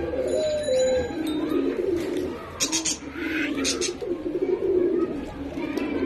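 Pigeons cooing at a pigeon farm, soft repeated coos over a constant low background hum, with brief fluttering and faint voices nearby.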